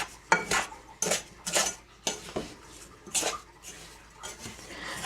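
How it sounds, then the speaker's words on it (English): A utensil stirring a pot of jam on medium-high heat, with repeated scraping clinks and knocks against the metal in an uneven rhythm, close and fairly quiet. "Good stir."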